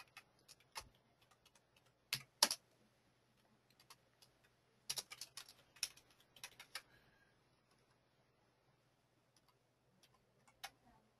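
Computer keyboard typing comes in short bursts of quick clicks separated by quiet pauses, faint against a low steady hum, with no voices.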